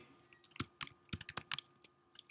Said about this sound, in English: I can hardly type on this keyboard.